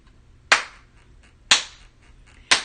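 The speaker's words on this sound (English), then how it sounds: "Let me get my clap going and try to get me a beat." Three sharp, close hand claps land one second apart in a slow, even beat, each crisp and ringing briefly over a quiet room.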